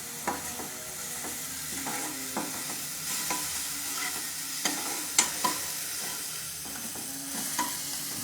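Food sizzles steadily in a pan, with scattered scrapes and clinks of stirring spread across the whole stretch and no voices.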